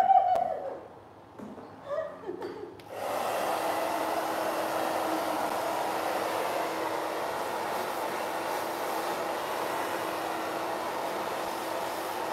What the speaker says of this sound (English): blow dry her hair so you can see better the way I'm blow drying the side